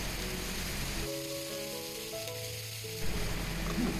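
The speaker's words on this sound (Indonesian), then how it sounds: "Masukkan minyak secukupnya aja, kemudian tuang bumbu yang udah kita blender halus tadi." Finely blended spice paste hits hot oil in a wok, giving a loud, close, crackling sizzle that softens and settles partway through, then flares up again near the end.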